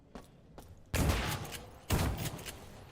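A shotgun firing in the System Shock remake, with two heavy booming blasts about a second apart, each decaying slowly, after a couple of fainter knocks.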